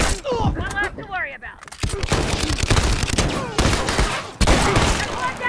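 Intense firefight in The Last of Us Remastered near a water tower: loud, dense gunshots crowd the clip almost without pause, with voices shouting over the barrage.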